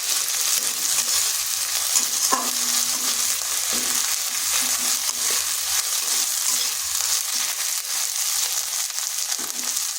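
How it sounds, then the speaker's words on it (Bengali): Garlic and ginger paste frying in a pan, a loud continuous hiss and crackle of hot oil with occasional stirring knocks, steady throughout with no talk. "এটাকেও একটু ভেজে নিচ্ছি যাতে আদা রসুনের কাঁচা গন্ধটা চলে যায়"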